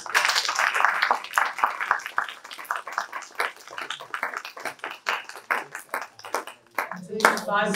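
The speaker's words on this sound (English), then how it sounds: "let's give a big round of applause to our students." A small audience at a school parent session claps for students, scattered individual claps with uneven rhythm, fairly close, ending with a brief tonal sound at the close.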